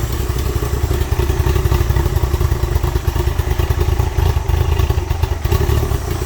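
A project motorcycle engine fitted with an electronic choke runs continuously up close, a loud rough rumbling idle with a dense rapid chatter of firing pulses and clatter throughout, no talking.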